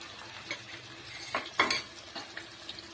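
Ginger-garlic paste frying in a pan for Hyderabadi chicken dum biryani makes a soft background sizzle, broken by a few close scraping strokes of a stirring spoon near the middle. No one speaks.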